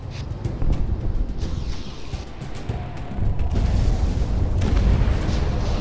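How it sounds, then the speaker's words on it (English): Bombs explode in the Project Wingman combat flight game, a dense run of deep booms and rumbling blasts over a constant jet roar, growing heavier in the second half. "Bombs away!"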